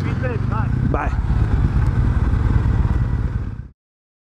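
A Triumph Bonneville motorcycle engine rumbles steadily while filtering through traffic, loud and close with wind noise and brief whistling chirps, then cuts off abruptly near the end.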